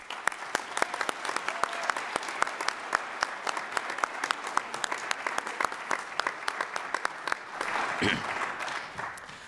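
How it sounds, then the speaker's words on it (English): Audience applause at a high school Minnesota Honor Society induction ceremony, a steady patter of many hands clapping throughout, with sharp individual claps standing out and a brief swell of crowd noise near the end. "Let's give everyone a round of applause."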